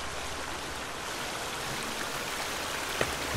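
Waterfall in The Forest video game, a soft, steady rushing hiss of falling water with a faint splash near the end and no speech.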